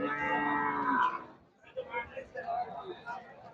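Friesian heifers at a cattle market, one giving a loud, drawn-out moo up close, followed by someone talking over the market background.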